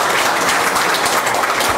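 Audience applauding a visiting health minister at an official event, a dense, steady wash of clapping that fills the whole short stretch without pause.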